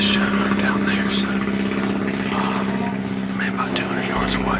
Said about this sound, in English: We got airplanes and guns going off everywhere.